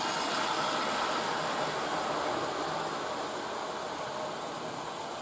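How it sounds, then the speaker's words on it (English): A Dublo model train engine pulling an eight-coach rake of suburban coaches runs fast under a Gagemaster controller, giving a steady, even rushing whir that fades slightly toward the end, with no talk. "This engine will go faster, so I've turned it up to 70 on the Gagemaster controller."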